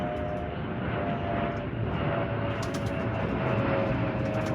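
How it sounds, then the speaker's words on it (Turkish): A low, steady aircraft engine drone fills the air overhead, broad and continuous, with faint bird sounds flickering above it. "Bu arada uçak geçiyor."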